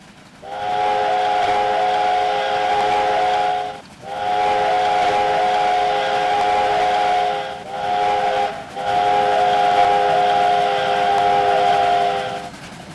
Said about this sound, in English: the train was chuffing and the whistle was being blown